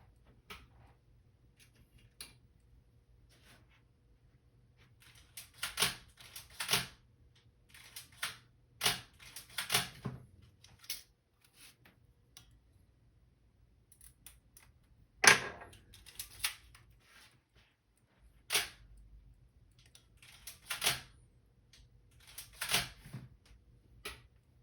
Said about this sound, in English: Go ahead and check the shutter speeds and runtime.